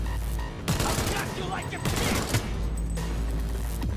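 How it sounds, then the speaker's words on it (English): Gunfire in the video game Cyberpunk 2077 comes as dense, loud bursts of repeated shots over a busy game soundscape, with several distinct volleys and no pause between them. "Heard shots."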